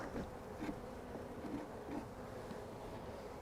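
Honeybees from an overwintered nuc hive, opened for inspection, hum in a faint continuous buzz with soft scraping and handling noises, no talking.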